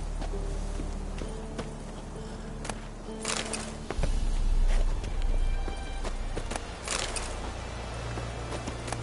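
Roach, Geralt's horse in The Witcher 3: Wild Hunt, gallops with steady, rhythmic hoofbeats close by, thudding louder partway through over a low game ambience and scattered sharper clatters.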